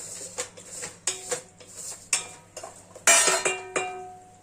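Brinjal is stirred with rock salt in a pan for brinjal sambar: a metal spoon scrapes and clinks against the pan in about eight distinct, close strokes, with no voices.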